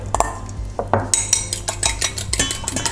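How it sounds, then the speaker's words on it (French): Eggs for choux pastry beaten by hand in a bowl, a quick run of clinking, tapping whisk or fork strokes against the bowl, close and fairly loud with no voice. "avant de rajouter les œufs, hop, on les bat au préalable"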